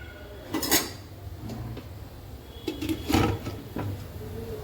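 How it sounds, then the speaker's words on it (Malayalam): A spoon scrapes and clinks against a pot of aloo methi being stirred, followed by a lid clattering shut, in a sequence of sharp metallic knocks over a quiet kitchen background. "ഇനി നമുക്കിത് നന്നായിട്ടൊന്ന് ഇളക്കി അടച്ചു വയ്ക്കാം."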